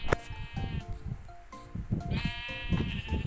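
Several sheep bleat in the Minecraft video game, wavering calls overlapping one another close by, with soft footsteps and game sounds underneath.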